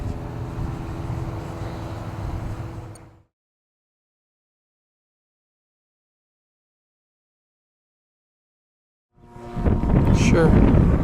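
Loud gusts of wind buffet the microphone with a roaring rumble at a model airplane flying session, cut off by a stretch of total silence before the blustery noise returns.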